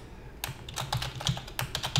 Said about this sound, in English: Let's type in MD Java.